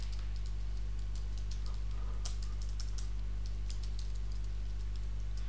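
Code is typed on a computer keyboard in quick, irregular clusters of sharp key clicks, close and clear over a constant low electrical hum, with no speech.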